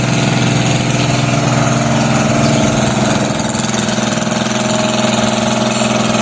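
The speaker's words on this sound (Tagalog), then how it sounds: "Nag-water pump siya para masipsip yung tubig para iakyat doon sa taas para sa kanyang sibuyasan" A water pump's engine runs loud and close beside a dried-up river in Magsaysay, Occidental Mindoro, a steady mid-pitched chugging drone that holds without pause.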